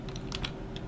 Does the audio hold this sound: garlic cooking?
no